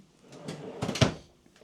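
A sticky drawer slides open in a cabinet of a 2008 Country Coach Intrigue Jubilee motorhome, giving a short scraping rattle with a firmer thump near the end, close and alone.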